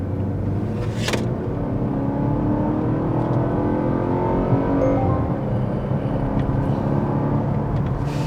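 A Volvo S60 T4 Inscription with an 8-speed gearbox accelerating on the road, a steady loud engine drone with rising tones and road noise throughout.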